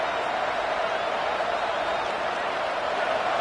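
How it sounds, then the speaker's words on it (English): Stadium crowd noise from an NCAA college football video game, a steady, loud, broadband roar of cheering that holds without a break across the whole span, with no distinct voices standing out. "This crowd, full throat, spreading the eardrums and letting them know it's going to be a long day."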